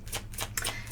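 Tarot cards shuffled by hand, a quick run of dry riffling bursts repeated several times in one second, close and moderately quiet with no talk.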